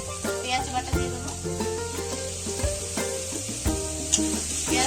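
Onion paste fries in a pan with a pinch of salt, a soft, steady sizzle with occasional light clinks, heard close over a faint tonal hum.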